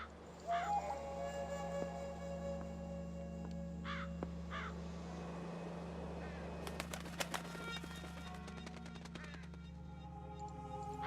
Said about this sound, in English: Large black crow